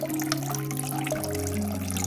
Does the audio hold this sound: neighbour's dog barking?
no